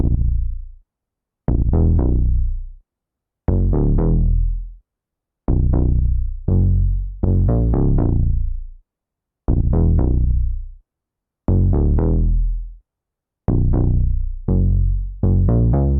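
Short, punchy square-wave synth bass notes in a repeating hip-hop pattern, each decaying quickly, separated by gaps of silence, loud and without other sounds.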